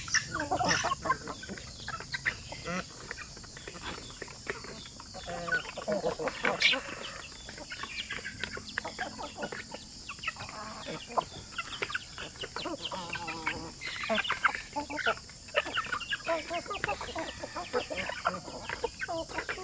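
Native chickens on a Philippine poultry farm cluck and call repeatedly, fairly faint and scattered across a noisy outdoor background, with occasional voices in the distance.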